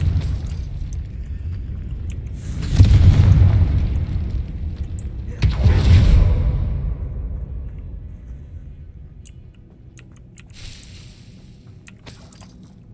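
Two deep rumbling blasts from the Confringo spell in Hogwarts Legacy, each a loud booming burst that fades over a couple of seconds, followed by quieter scattered magical pings and game effects.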